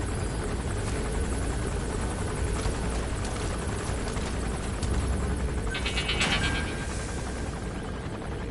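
Helicopter in the video game Metal Gear Solid V: The Phantom Pain, a steady loud rotor drone running throughout with no talk, with a brief brighter mechanical whine partway through.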